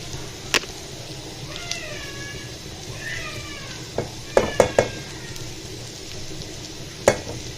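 Taro stems and tomatoes frying in a pan, crackling softly and steadily while a utensil gives a few sharp clicks against the pan; high meow-like cries sound in the background.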